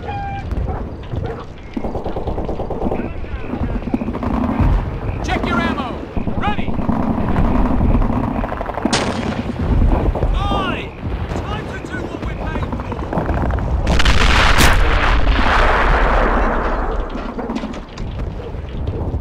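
Artillery fires in a military video game running a realism mod: heavy booming blasts and rumbling aftermath over a constant engine-like drone, with a man calling out commands.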